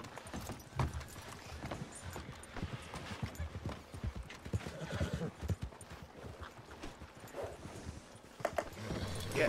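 Horse hooves clopping steadily on hard ground, with occasional whinnies and snorts mixed into a busy outdoor background.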